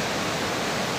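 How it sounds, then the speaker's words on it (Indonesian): Strong ocean waves about two meters high breaking on a beach, a dense, steady roar of surf filling the whole moment without a break. "ombaknya sangat kencang, teman-teman"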